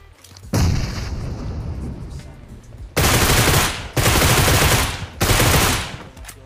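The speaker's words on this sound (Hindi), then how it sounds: "अभी दूर से कहीं से शॉट्स आ रहे थे यार" Distant gunfire in the mobile game PUBG Mobile, set in the town of Pochinki: a hollow rumbling shot followed by three heavy booming reports in quick succession, each one dying away slowly.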